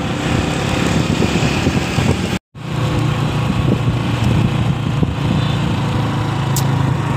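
A motorcycle rides along a bumpy road toward a grid station, its engine droning steadily and loudly with a brief dropout partway through, no speech.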